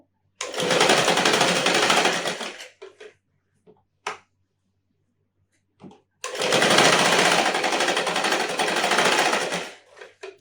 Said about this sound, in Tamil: பிடிச்சிட்டு அப்படியே தையல் போட்டுடலாம் ஸ்ட்ரைட்டாக